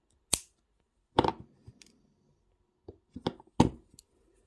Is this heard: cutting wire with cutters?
yes